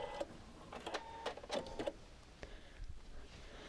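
A sewing machine stitches a quilt border, running in short uneven bursts of fast mechanical whirring and clatter as it sews a couple of back stitches, fairly quiet and close, with brief pauses between runs.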